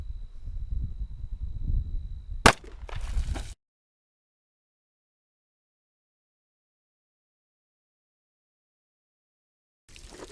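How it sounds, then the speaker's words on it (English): A 10mm pistol fires a single Buffalo Bore 220-grain hardcast round through a simulated bone barrier into water jugs, a sharp, sudden crack over outdoor rustling before the sound cuts to near silence. "here, 3rd shot with the standard bone barrier"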